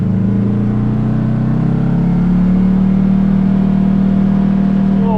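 A Polaris Ace 900 off-road vehicle engine held at high revs, a loud steady drone that climbs slightly in pitch partway through, close to the microphone with no talk.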